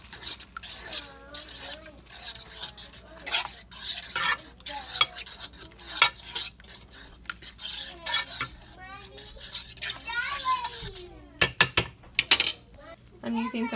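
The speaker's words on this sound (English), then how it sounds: "Okay, I'm gonna mix it up." Six beaten eggs stirred in a bowl, rapid repeated scraping and clinking of utensil against the bowl in close bursts, with a few sharp louder taps near the end and occasional voices.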